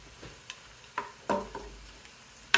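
Vegetables are added to a pan with onions and cubes, a quiet sizzle of frying under a series of soft scrapes and clinks from stirring at irregular intervals.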